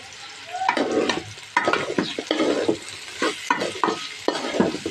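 Potatoes and cauliflower fry for chicken vegetable fried rice while a utensil stirs them, scraping the pan in repeated close strokes over a constant crackling sizzle, with no talking.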